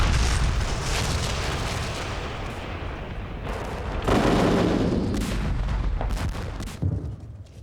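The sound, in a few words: Soviet artillery bombardment sound effect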